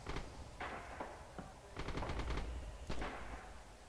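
Gunfire in the World War II shooter Rising Storm: scattered single shots, then bursts of rapid automatic fire, fairly distant and alone without talk.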